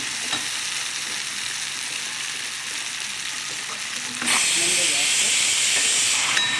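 A vegetable roasts in a pan with a steady frying hiss that turns suddenly louder and brighter about two-thirds of the way through, then holds there.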